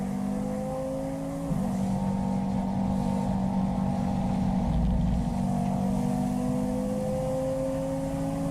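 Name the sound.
KTM X-Bow race car engine, onboard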